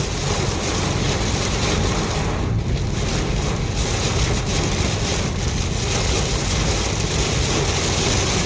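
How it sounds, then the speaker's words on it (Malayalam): Heavy monsoon rain in Thrissur, Kerala pours down as a dense, continuous roar, loud and close throughout without a break. "മഴയുടെ സ്ട്രോങ് എന്ത് വലിയ തുള്ളി വീണെന്നറിയോ ഗംഭീര മഴ ഗംഭീര മഴ"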